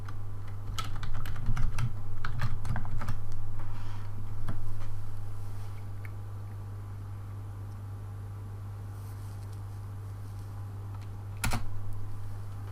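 Typing on a computer keyboard while working in MATLAB, a quick close burst of key clicks early on, then quiet with a steady hum, and a final sharp keystroke near the end.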